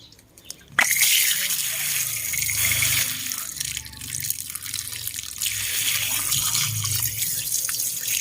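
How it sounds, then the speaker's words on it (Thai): Running tap water pours steadily as soil is washed off a caladium tuber, starting abruptly after a brief quiet moment and then splashing loudly and continuously close by with changing gush and drip textures. "ล้างให้สะอาดนะคะนำดินออกให้หมดนะคะ"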